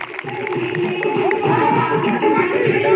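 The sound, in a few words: applause for a student speaker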